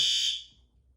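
A building fire alarm, triggered by testing a washroom heat detector, sounds one loud, shrill electronic tone that cuts off after under half a second, leaving near silence.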